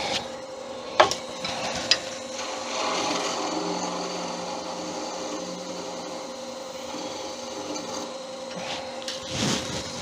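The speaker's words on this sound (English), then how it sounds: "Let me part that off." A wooden piece being parted off on a wood lathe, a continuous scraping cut with a steady motor hum, opened by a couple of sharp knocks and ending in a brief louder rasp.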